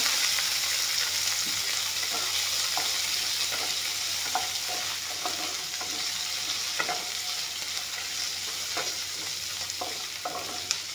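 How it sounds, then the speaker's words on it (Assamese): Chopped garlic, ginger and chili fry in a hot pan with onion, a continuous close sizzle broken by regular scraping stirs of a spatula. "এইখিনি অলপমান ভাজি ল'ম।"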